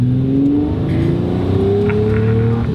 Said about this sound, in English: It's just a very harmonic V12.